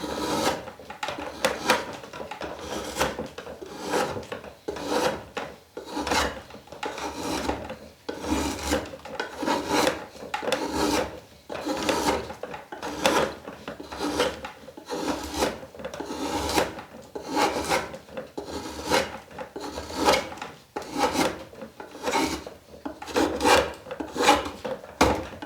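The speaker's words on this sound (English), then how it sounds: "dry pine is actually pretty hard to work with if you chiseling and running a draw knife" Steady rasping strokes of a draw knife and chisel shaving very dry pine, a loud, close, rhythmic scrape repeating about every second without pause, with no talking over it.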